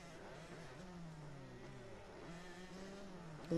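A quiet 125cc motorcycle engine in a racing video game drones and shifts pitch, revving up and easing off over a few seconds, fairly faint and steady.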